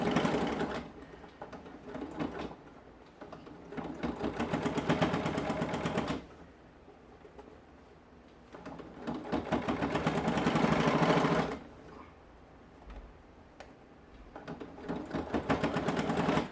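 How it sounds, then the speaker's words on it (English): Sewing machine back stitching over a zipper while making a crossbody bag, with rapid mechanical whirring in three long bursts separated by short quieter pauses, close and fairly loud. "I'm holding my zipper together here, and I'm going to back stitch over it just to make sure that's in place."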